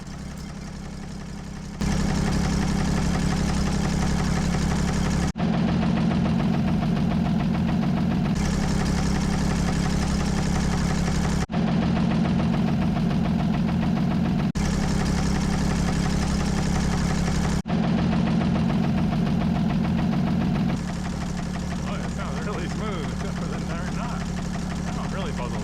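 Idling engine of a 1968 Toyota FJ40 Land Cruiser after a rod bearing replacement, a steady low rumble with a faint repeating knock, heard close and continuous across several back-to-back takes without talk.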